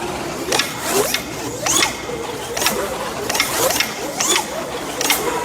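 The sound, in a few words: race car motor spinning with bronze bushings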